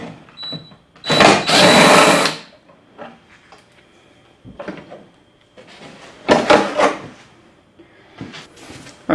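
Power tool backing out two 5/16 or 8mm bolts from a panel on a Toro snowblower, two loud short bursts of whirring with clinks and handling sounds between them.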